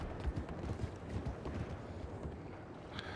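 Horse hooves clip-clop in a Goldrush roleplay video game, a steady run of soft, close thuds over a windy, noisy bed with no talk.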